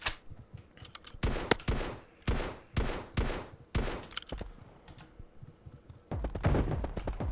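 Gunfire in MiniRoyal, a battle royale video game with toy soldiers in a house: a rapid series of loud, sharp shots at an uneven rhythm, several closely spaced bursts with brief pauses, and a final loud cluster. No speech.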